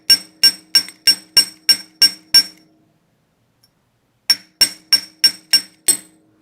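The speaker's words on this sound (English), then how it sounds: "Hammer carefully and kind of blend" Sharp metallic hammer taps on wire while forming an ankh tree-of-life pendant, two quick bursts of seven or so evenly spaced strikes separated by a silent pause, close and ringing.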